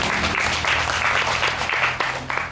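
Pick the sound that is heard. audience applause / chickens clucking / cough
audience applause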